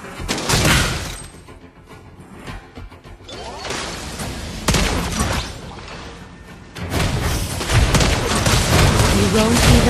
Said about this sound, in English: You destroyed the turret!